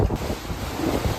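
Storm wind and heavy waves during a coastal storm, a steady roaring rush of gusting air and surf that holds loud and unbroken with no clear individual breakers.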